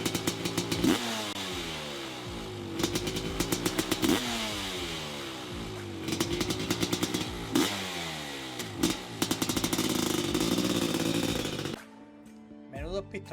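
A Honda CR500 two-stroke dirt bike engine revs repeatedly in sharp, rising bursts with a rattling exhaust note, loud and close, before dropping off near the end.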